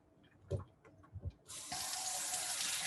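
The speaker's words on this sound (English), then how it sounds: "you're going to want to just get some warm water going" Warm water from a kitchen tap starts gushing into a sink after a few soft handling knocks, then runs steadily and loudly to the end, with no talking.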